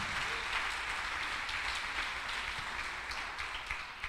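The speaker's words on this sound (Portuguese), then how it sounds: "Você pode dar um aplauso a Jesus aí?" A church congregation applauds together in a continuous, dense burst of clapping that fills the room and tapers slightly toward the end.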